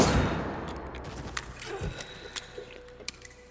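Hand cannon gunfire in the video game Resident Evil Requiem, with a heavy shot at the start fading out, followed by scattered sharp impacts and clicks.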